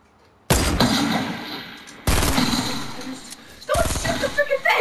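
Fortnite gunfire comes in three loud bursts, each a rapid string of close, heavy shots that trails off into game noise before the next volley.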